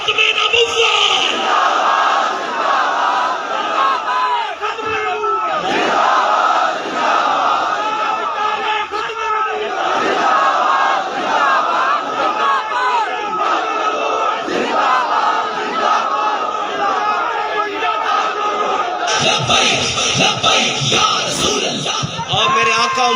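A large crowd at an urs religious gathering in Nankana Sahib, Pakistan, chants religious slogans loudly and continuously in rhythmic call-and-response waves, with massed voices swelling and shouting throughout.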